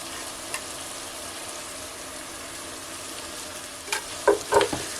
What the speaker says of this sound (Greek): Ανακατεύουμε.